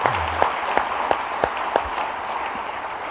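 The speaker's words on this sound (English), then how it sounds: "Ladies, you can please give her a nicer round of applause" Audience applause at the 2015 C Harper Positive Athlete Awards ceremony: a steady wash of many hands clapping, with a few sharper, louder claps popping out at regular intervals, continuing without a break.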